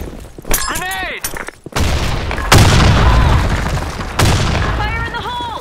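A grenade goes off in the online shooter BlackShot during a team flag match, giving heavy booming blasts with a crackle of scattered gunfire, while game voice callouts sound before and after.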